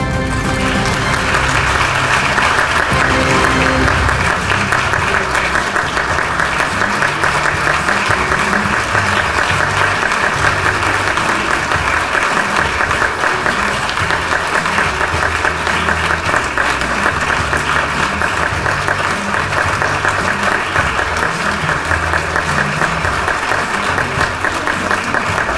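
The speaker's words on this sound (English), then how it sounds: "Please give a thunderous round of applause" An audience applauds the 2022 Distinguished Alumnus Award recipient at a Marshall University ceremony, a loud, steady wash of many hands clapping that carries on unbroken for about twenty-five seconds.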